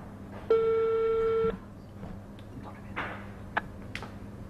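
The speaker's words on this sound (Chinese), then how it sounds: "您拨打的用户正忙，" A telephone busy tone on a call to a company secretary's line that goes unanswered: one steady, loud electronic tone lasting about a second, followed by faint room noise with a few small clicks.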